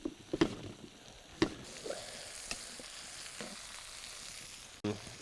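Food sears and sizzles steadily in a pot over a campfire, with a few sharp clinks and stirring clatters scattered over the constant crackle.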